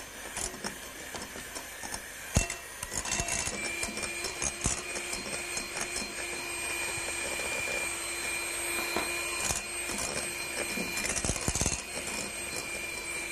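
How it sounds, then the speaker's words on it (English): An electric whisk beats sugar into meringue, a steady mechanical whir at close range with faint rattling knocks against the bowl, running continuously without talk. "So we'll just whisk that in now, about 2 lots at a time."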